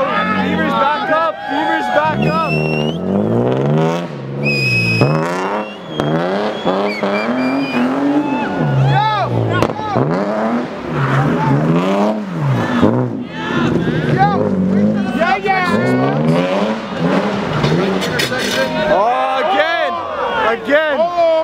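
A BMW does burnouts at a street intersection takeover. Its engine roars and its tires squeal continuously under a loud, excited crowd that shouts and cheers close by throughout.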